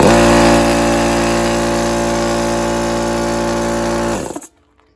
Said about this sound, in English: I wonder if it'll start my air compressor now.